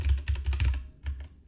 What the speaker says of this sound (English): all I have to do is type in the file name of the image exactly as it reads